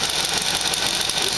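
A Lego 3-speed automatic transmission whirs steadily in third gear, a continuous close-up mechanical hum with fine rattly gear noise and no pauses.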